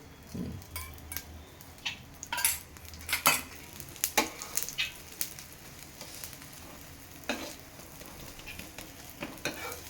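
An egg roll cooks in oil on a pan: a soft, close sizzle broken by scattered clinks and scrapes of a metal utensil against the pan, with no talking.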